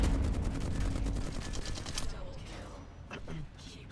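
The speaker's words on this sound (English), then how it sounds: "That flatline just don't have enough bullets." Rapid automatic Flatline rifle fire in a shooter game, a dense fast burst of shots that thins out and stops halfway, followed by scattered mechanical clicks and faint background sounds.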